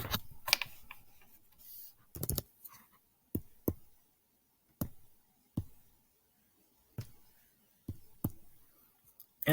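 Calculator keys are pressed one at a time, giving sharp, faint clicks spaced about a second apart in a quiet room, with no talking.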